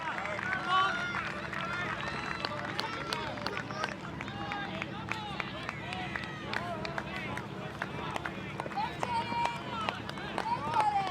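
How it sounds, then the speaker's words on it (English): Steady crowd roar and scattered cheers fill a stadium during a 10,000 metres championship race, continuous and fairly loud throughout, with a commentator talking over the noise. "the crowd gets louder and louder"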